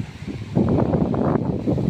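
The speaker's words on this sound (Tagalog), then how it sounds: "Lakas ang hangin" Strong wind buffets the microphone on a small wooden outrigger boat at sea, a steady broadband roar that surges louder after the first half-second and stays heavy to the end.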